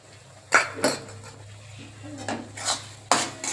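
Ground spice paste goes into a pan for a mustard, poppy seed and coconut fish curry, with a few sharp metal utensil knocks and scrapes against cookware at close range.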